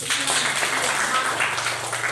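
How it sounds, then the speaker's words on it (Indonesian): Classroom pupils clap their hands in a burst of applause, a busy, continuous patter of many hands up close lasting about two seconds. "tepuk tangan"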